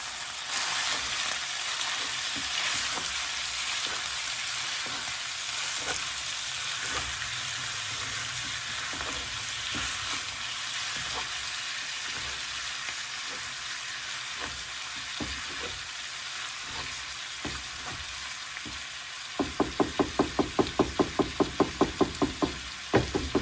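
Ground beef and Italian sausage fry in a pan with a steady, close sizzle while a utensil breaks the meat apart, tapping and scraping in bursts, then a quick run of rhythmic knocks near the end.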